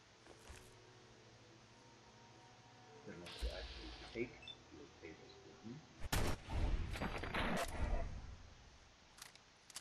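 Gunfire in the video game Fallout 4, a few sharp shots and a cluster of bursts with clattering impacts amid low ambient noise, with a voice talking in between.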